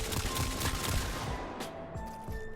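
Veldt rifle shots in the video game Warframe, a rapid run of crisp gunfire reports with game effects and tones layered in, fairly quiet overall.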